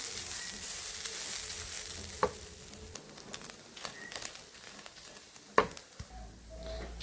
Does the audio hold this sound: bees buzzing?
no